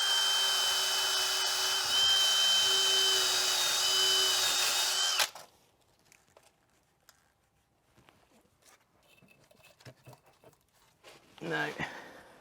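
A power drill fitted with a cleaning attachment whirs steadily against a car's brake hub on a Renault Scenic 3 for about five seconds, then cuts out, leaving quiet workshop clatter and a brief voice.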